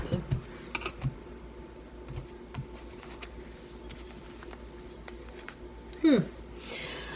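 A deck of tarot cards is shuffled and cut on a table, giving soft irregular card taps and slaps, with a brief voice partway through.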